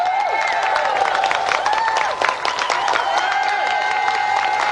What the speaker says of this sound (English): Let's have another round of applause then for Paul Davis and Dave Goodyear.